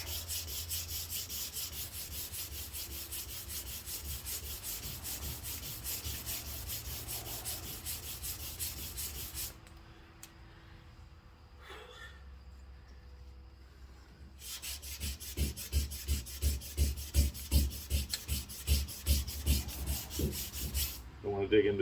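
Sanding of car body filler along a tape line on a car body, heard as steady, close, scratchy rubbing strokes, pausing midway and then returning with rhythmic back-and-forth passes.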